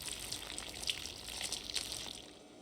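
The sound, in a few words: liquid poured on ground in Project Zomboid video game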